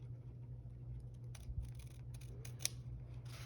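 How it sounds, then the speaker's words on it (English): Scissors cut along the edges of paper pages in a quiet room, a few soft snipping and rustling strokes over a low steady hum, with one sharper snip near the end. "I need to cut those edges."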